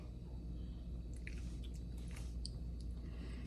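Someone chews and tastes a spoonful of okra kichadi seasoned with fried mustard seeds, soft wet mouth sounds and occasional crisp bites repeating close up against a low steady kitchen hum.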